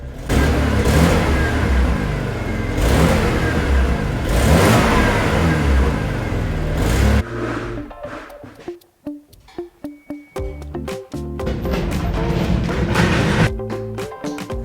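A high-mileage BMW engine with a bad exhaust leak roars and revs loudly in repeated swells, drops to a rough, sputtering idle with choppy puffs, then revs up again.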